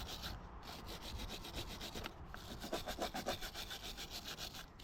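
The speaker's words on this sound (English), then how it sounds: "I'm gonna try and clean some of this corrosion off" Rapid back-and-forth scrubbing rasps at a corroded battery terminal on a 2018 Bobcat E26 mini excavator, a rhythmic close scratching in quick strokes that speeds up toward the end, with no talking.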